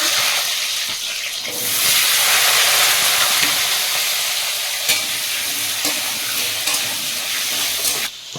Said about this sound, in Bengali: এবারে আলুটা ভেজে দেবো